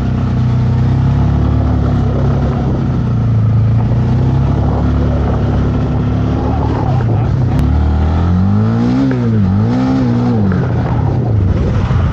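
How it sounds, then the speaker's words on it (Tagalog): A Honda Winner X 150 motorcycle engine roars loudly and steadily at close range, then revs up and down in several swelling pulls near the end. "Engine roar."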